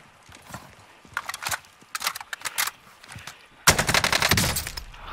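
Rapid bursts of in-game gunfire in the Warzone battle royale, close and loud, coming in staccato clusters with a sustained dense volley near the end; no talk over it.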